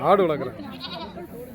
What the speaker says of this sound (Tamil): ஆடு வளர்க்குறேன்.